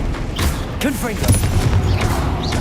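Confringo, a fiery explosive blast spell in Hogwarts Legacy, bursts out as a loud, crackling whoosh and boom, with spell effects over a steady layer of combat noise and a voice speaking in the background.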